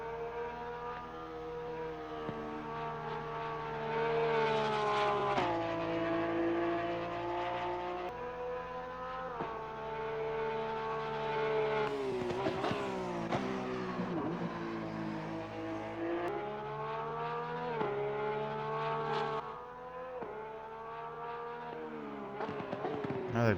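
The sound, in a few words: Porsche 911 GT3R race car engine lapping Barcelona, Assetto Corsa Competizione video game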